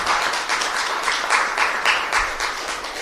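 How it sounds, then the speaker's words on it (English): At a housing affordability summit, a conference audience gives a round of applause for the event staff, the clapping steady with slightly pulsing bursts across the short stretch. "give a round of applause to my staff, Carlos Paz, Kana, Michael, all of them"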